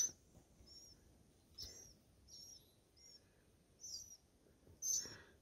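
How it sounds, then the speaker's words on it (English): Baby birds in a nest along the Appalachian Trail give thin, high chirps in short separate bursts, faint and a little distant, against quiet outdoor background. "You can see the little baby birds."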